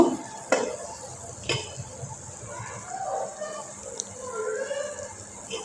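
Onion, garlic, ginger, chilli powder, turmeric and green chillies fry in a pan for a fish curry, giving a low sizzle with scraping stirs and a few sharp knocks of a spoon against the pan.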